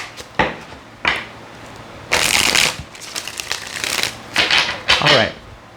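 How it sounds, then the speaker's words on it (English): Tarot cards shuffled by hand in a few distinct bursts of riffling and flicking, close and fairly loud, separated by brief pauses with quiet room tone. "Last shuffle."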